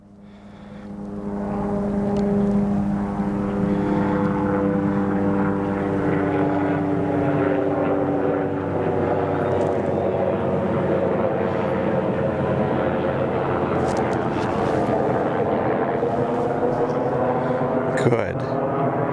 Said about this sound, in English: there's a helicopter going to fly right over the top of us.